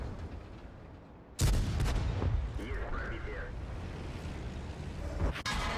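Artillery shell fire in the World of Tanks video game: one sudden loud blast, followed by a long rumbling tail with a second sharp hit near the end, heard close and over game noise.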